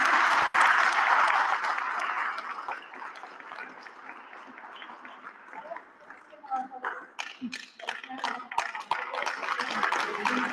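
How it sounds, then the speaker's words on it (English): A candidate forum audience gives a round of applause, dense clapping that fills the room and then thins into scattered claps and shuffling. "They need a round of applause."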